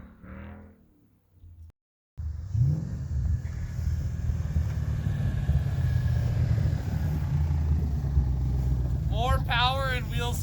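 A 2011 Ford Mustang GT climbing a snowy driveway, its V8 engine droning loud and steady after a short gap, with wind buffeting the microphone, a voice briefly at the start and another near the end.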